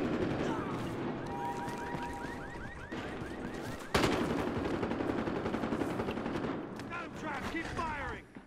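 Rapid automatic gunfire in the video game Battlefield Hardline, continuous bursts of shots with a sharp louder crack midway, busy and close throughout with other game effects mixed in.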